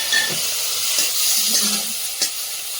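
Shrimp coated in salt and turmeric sizzle and hiss in a little hot oil, a steady close frying noise with faint stirring clicks and no talk.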